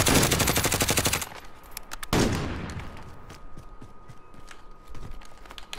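Grau rifle gunfire in the video game Modern Warfare: a loud, rapid close-range burst, a short pause, then a second burst trailing into scattered, fainter shots.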